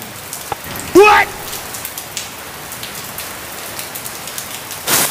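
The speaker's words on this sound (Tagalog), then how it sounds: "galing ko gumawa ng ulan" Steady rain patters on a surface close by, with a brief voice-like chirp partway through and a louder burst near the end.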